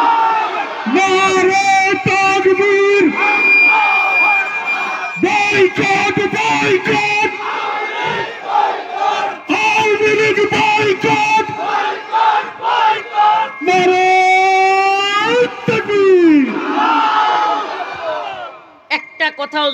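A large crowd at an outdoor Bengali religious sermon responds to the Nara-e-Takbir call with loud, rhythmic chanted shouts repeated in bursts, and a voice amplified over a loudspeaker leads and answers them.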